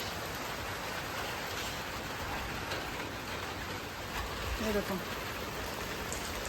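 Steady rain hisses across the whole stretch, a dense wash of drops with a brief voice speaking near the end.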